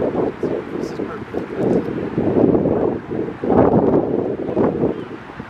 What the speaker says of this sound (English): Wind stiffened up a little bit. It's solid 15 mile an hour.